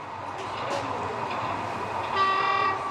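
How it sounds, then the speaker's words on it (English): A model railway locomotive's horn sounds near the end as a sustained electronic tone, following quieter layout running noise and exhibition-hall ambience. "Oh, got a horn."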